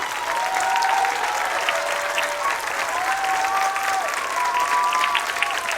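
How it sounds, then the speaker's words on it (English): A school assembly crowd of young students applauding a veteran at a Veterans Day event, sustained dense clapping with children's voices calling out over it throughout. "let's give all the veterans a round of applause"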